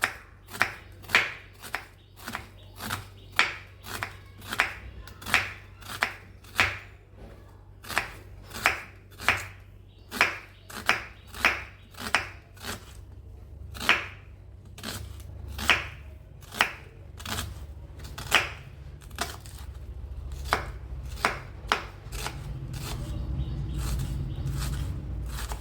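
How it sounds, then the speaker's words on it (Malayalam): A knife thinly slices onions lengthwise on a board, making crisp, evenly paced chopping strokes, about one per second, close and fairly quiet with no talk. "ആദ്യമായിട്ട് നമുക്ക് ഉള്ളി നീളത്തിൽ കനം കുറച്ച് അരിയാം"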